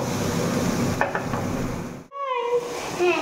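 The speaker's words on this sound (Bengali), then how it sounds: "বেশি ভাজবো না, হালকা রোস্ট করে নেব।" Egg roll filling with salt and chaat masala being lightly roasted in a pan gives a close scraping, stirring sizzle for about two seconds. It breaks off briefly, then a voice is heard over softer crackling.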